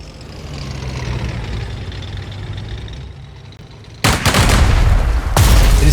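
Tank and infantry gunfire in the wartime strategy game Strategic Mind: Blitzkrieg, a low engine-like rumble suddenly giving way to loud, heavy bursts of gunfire and booms that stay close and intense to the end.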